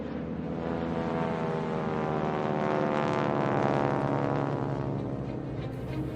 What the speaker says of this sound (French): Au dehors, le moteur d'un avion ronronne.